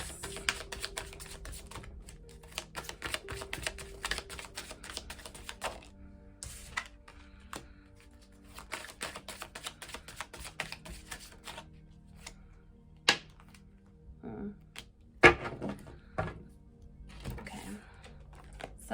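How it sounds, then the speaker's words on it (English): Tarot cards being shuffled and pulled, giving rapid riffling and clicking card sounds up close, then scattered single slaps and flicks as cards are drawn, with a person talking softly over them. "let's pull a few more cards"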